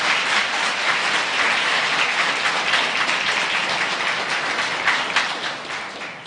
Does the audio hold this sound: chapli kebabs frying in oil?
no